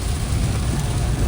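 Heavy rain falls during a drive on a road, heard from inside the car with the hazard lights on. A dense, continuous roar of rain on the vehicle fills the short stretch with no break.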